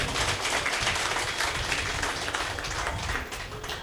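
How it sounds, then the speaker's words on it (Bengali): An audience applauds at a public gathering, giving a steady, dense clapping that stays fairly even and then eases off slightly toward the end, with no talking over it. "ওনার জন্য একটা আমাদের হাততালি দেওয়া উচিত"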